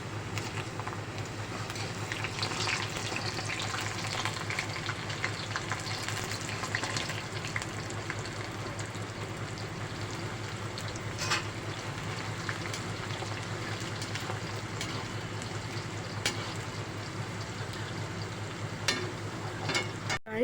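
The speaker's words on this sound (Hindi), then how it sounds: "तो अब हम इनको तेल में तलेंगे" Saloni snacks deep frying in hot oil, giving a steady, dense crackling sizzle like light rain that holds at an even, moderate level throughout with occasional sharper pops.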